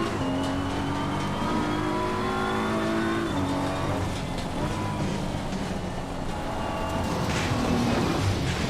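Turbocharged race car engine in Assetto Corsa Competizione, a loud steady drone with rising and falling pitch as it revs through the gears, running continuously up close with no talk.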